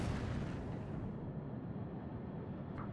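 A heavy, continuous boom and rumble of battleship naval gunfire in World of Warships, with a deep roaring low end, sustained for the whole stretch, loud and close.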